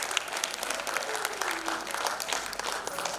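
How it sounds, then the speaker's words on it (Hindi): An audience applauding at the grand finale of a singing competition, dense sustained clapping from many hands filling the hall at an even level throughout. "आप सभी के लिए एक बार जोरदार तालियां ऑडियंस की"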